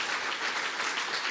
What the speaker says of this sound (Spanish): ¿Cuántos damos un aplauso fuerte al Señor en esta mañana?